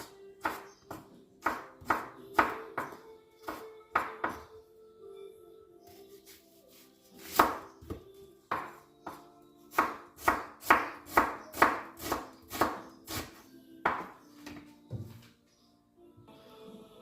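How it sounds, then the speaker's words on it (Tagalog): Garlic and onion are chopped on a board with a knife in a run of sharp, evenly spaced knocks, some quick and clustered, heard close with no one talking. "Iwain natin ng mga rekado, yung bawang sibuyas."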